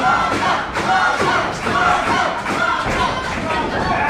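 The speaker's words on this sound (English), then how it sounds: "And this crowd firmly behind Blanco Loco." A wrestling crowd at an ACW Proving Ground show roars and chants loudly and continuously in support of Blanco Loco, with dense massed voices and occasional thuds underneath.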